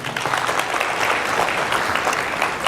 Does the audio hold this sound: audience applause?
yes